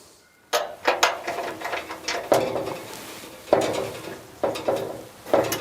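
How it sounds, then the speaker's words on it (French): The four screws holding a bioclimatic pergola's actuator block are driven tight, giving close metallic clicks and ratcheting bursts in short irregular spurts over a steady mechanical rasp. "je serre à fond les 4 vis qui maintiennent le bloc vérin et on serre bien à fond"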